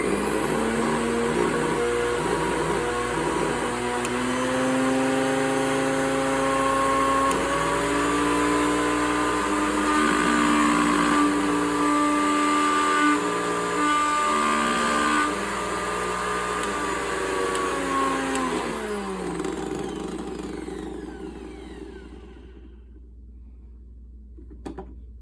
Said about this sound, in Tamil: மிக்ஸியை ஓட்டி பார்ப்போம்.